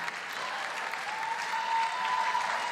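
A live studio audience breaks into steady, dense applause, a sustained wash of many hands clapping at even loudness with no one talking over it.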